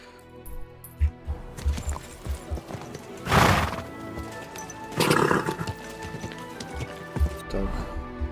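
Horse hooves clip-clop steadily in a video game, a near rhythmic trotting with a couple of louder snorting or whinnying bursts, while someone talks over it.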